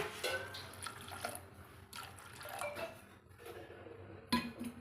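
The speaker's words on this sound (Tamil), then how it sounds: "இப்போ அது வேகிறதுக்கு தேவையான அளவுக்கு தண்ணி ஊற்றிக்கிறேங்க" Water poured into a cooking pot holding salted ingredients on a home stove, with splashing and clinks of a metal pot and utensils, moderately quiet and without talk.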